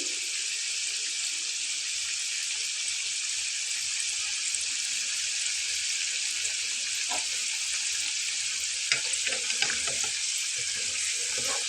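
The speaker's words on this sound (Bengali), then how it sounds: "বারবার উল্টে পাল্টে কিন্তু ভেজে নিতে হবে, তাহলে উভয় পাশটাই চমৎকারভাবে হয়ে যাবে।" Steady, loud sizzling of egg-and-flour snacks frying in hot oil continues throughout, with a few small clinks and scrapes near the end.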